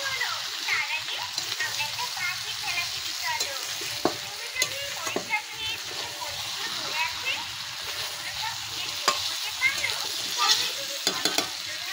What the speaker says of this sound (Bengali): আর এই চিকেন কারি মশলাটা দিয়েছি, করে কষিয়ে নেওয়া ভালো করে।